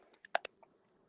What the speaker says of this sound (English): Are you doing that clicking noise again, Brandon?